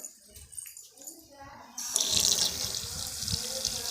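Running water from a hand-wash tap starts partway through and continues steadily, a broad hiss with splashing, after quieter background sounds at the start.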